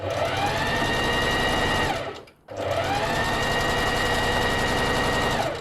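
A sewing machine stitches fabric with the foot pedal pressed, a steady close mechanical whir that runs continuously, cuts out briefly for a moment, then resumes at the same pace.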